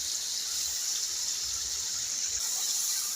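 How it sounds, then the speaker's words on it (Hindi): Water is poured in a steady hiss into a pan of potato bhujiya curry with tomato paste, a continuous, moderately loud stream lasting a few seconds with no talk. "हल्का सा पानी डालूंगी इसको उतारने के लिए।"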